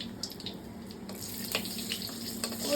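Cumin seeds and dried chilies sizzle in hot reused cooking oil for lentil dal, a steady close hiss with a low hum beneath and no voices.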